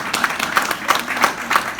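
Audience applause at a talk on startup entrepreneur habits, a short burst of clapping with bright, uneven hand claps repeating in loose waves across the moment.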